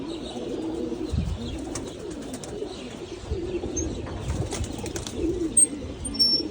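Several breeder pigeons in a loft coo in low, throaty murmurs, overlapping continuously, with occasional wing flutters and faint chirps in the background.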